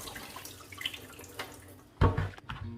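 Water being strained off soaked beans in a kitchen while preparing Nigerian akara, heard as a sudden splashing pour after a quiet stretch of soft running water and drips.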